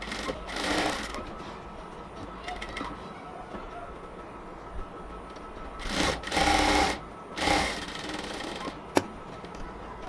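Sewing machine joining a strip onto ladies' pants, running in several short rapid bursts separated by pauses, with a quiet low hum between runs.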